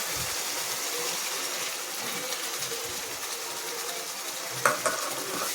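Tomato paste sautéing in oil over browned onion paste for a chole masala, a steady soft sizzle with a few scraping stirs near the end, no voices.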